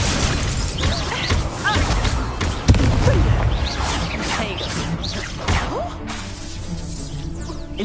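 An Accio spell cast in a Hogwarts Legacy duel amid a rapid run of magical whooshes, whip-like cracks and crashing impacts, loud and busy before easing into a quieter, steady hum.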